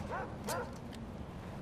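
A pitbull in the video game Far Cry 4 gives two quick yelping barks over steady game background noise, then falls quiet.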